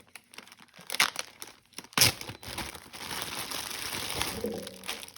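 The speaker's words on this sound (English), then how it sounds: "These are plastic bags" Plastic bags from an online shopping haul are handled and crinkled up close, with rustles and a louder crackle partway through that settles into steady crinkling.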